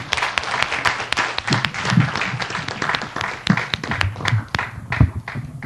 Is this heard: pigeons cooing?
no